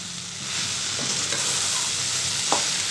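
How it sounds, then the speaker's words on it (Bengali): Okra stir-frying in a pan, a steady close sizzle throughout with a few faint spatula scrapes and stirring clicks, no voices. "ঢেঁড়স ভাজা করে দিলাম।"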